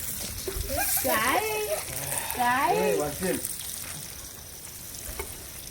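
Food fries in a pan while it browns, giving a steady, close sizzle and crackle. Someone speaks over it for the first few seconds, and the sizzle then carries on alone.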